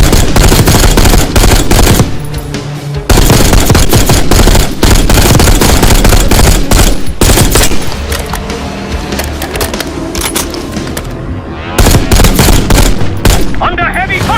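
Heavy automatic gunfire in Call of Duty: Black Ops 6, loud rapid bursts of machine-gun fire and shots hammering almost continuously, with a short lull and scattered battle noise in between.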